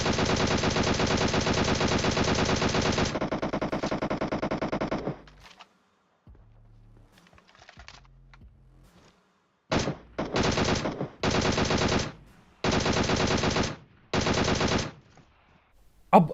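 Automatic gunfire in PUBG Mobile, loud sustained bursts for several seconds, then a brief lull with faint low thumps, followed by a series of five short, evenly spaced bursts.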